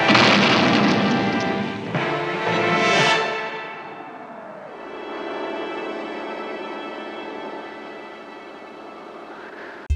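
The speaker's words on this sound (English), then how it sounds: "They accidentally blow up the Grimoire, which causes the castle to explode with Venger in it" A castle explodes in the animated Dungeons and Dragons series. A loud booming blast swells over the first few seconds, then fades into a lower, lingering rumble with tonal ringing underneath.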